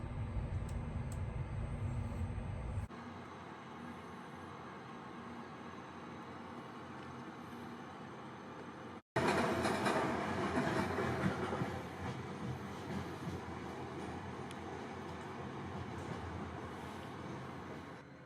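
Steady low rumble inside a moving first-class sleeper train carriage in northern Italy, with a faint tonal hum and a brief cut before the noise returns louder and fuller.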